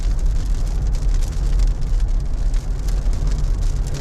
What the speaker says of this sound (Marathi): पाऊस चालू झालाय